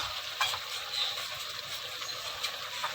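Bottle gourd being stirred into mutton curry in a cooking pot, a steady soft sizzle with faint scraping stir strokes throughout, close and fairly quiet.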